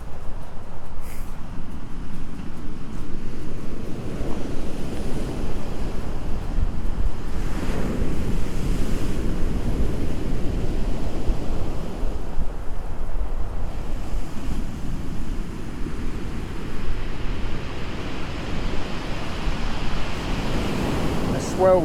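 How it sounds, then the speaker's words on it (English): Sea waves break and wash on a beach during a beach fishing competition in December as the swell grows, a loud continuous roar of surf with strong wind buffeting the microphone; people talk occasionally. "Swell's starting to get bigger now, isn't it?"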